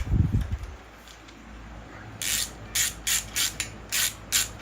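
Hose clamps on a modern Solex-style bicycle motor are tightened with a small 7 mm socket, giving a series of short, evenly spaced ratcheting clicks after a faint rustle.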